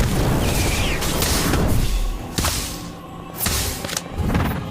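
Incendio fire spell effects in Harry Potter: Magic Awakened, a run of loud whooshing bursts and thumps, several distinct hits in quick succession, up close with no talking.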